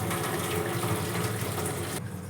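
Hot starchy water is poured off a pot of boiled rice, a steady splashing stream that runs briefly and eases off near the end, with no voices heard.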